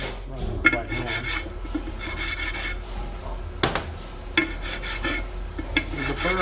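Hand file rasps across the sides of Mitsubishi 2.0 connecting rod caps to clear burrs. Repeated close scraping strokes come at an uneven rhythm, with occasional metallic clinks and no speech.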